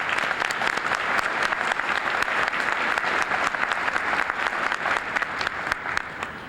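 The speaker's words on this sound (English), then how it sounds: "And let's give them a round of applause." Sustained applause from a college commencement audience at a 2012 Jefferson College graduation ceremony, a dense, steady patter of many hands filling the hall at moderate loudness without a break.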